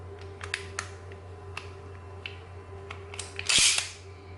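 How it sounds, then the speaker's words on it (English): KWC Colt 1911 CO2 blowback BB pistol, government model with heavy slide spring, its slide snapping sharply several times at close range over a faint steady hum, the last snap loudest and ringing. "nice heavy slide spring. Really snaps."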